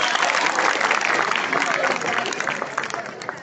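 Children and adults at a community event clap together, a thick, steady burst of applause with mixed crowd noise, loud and close, easing slightly toward the end.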